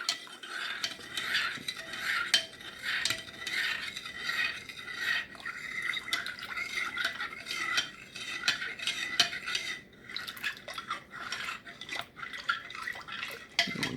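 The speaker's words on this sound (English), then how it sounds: "I'm just too busy stirring the tea up here." Tea being stirred in a cup with a metal spoon, giving steady clinking and swirling liquid sounds throughout, fairly close, with no talk.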